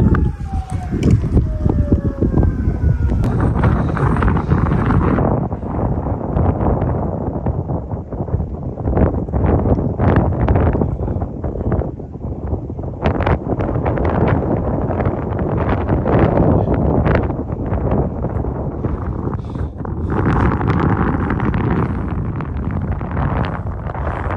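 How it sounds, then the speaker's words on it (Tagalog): Strong wind on a mountain summit roars and buffets the microphone continuously, a loud, rumbling, gusting rush that barely lets up, with faint voices nearly buried beneath it. "Sarap ng hangin."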